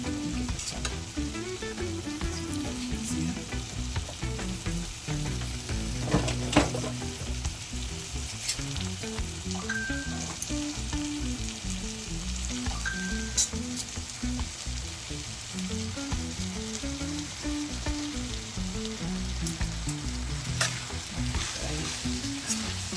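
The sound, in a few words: stirring bully beef and macaroni in a frying pan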